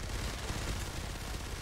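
A propane tank blows up in Fortnite Save the World, a dense, continuous low-heavy blast rumble with crackling gunfire-like texture filling the whole short stretch, loud and up close.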